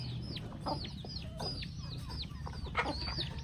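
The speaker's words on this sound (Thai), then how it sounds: "เวลาที่มีเศษอาหารก็จะเอามาเทให้น้องไก่กินแบบนี้เลย" Several chickens cluck and squawk in quick, overlapping bursts close by, over a low background hum.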